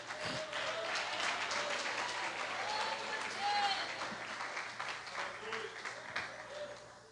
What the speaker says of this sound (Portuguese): Você pode se assentar e aplaudir a Jesus.